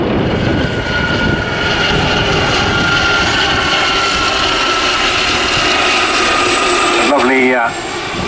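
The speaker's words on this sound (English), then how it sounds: "the 2019 Royal Air Force Tutor Display." A Royal Air Force Tutor training aircraft flying a display at an airshow: a steady, loud propeller-engine drone sustained throughout, with a brief rising whine near the end, and no talking.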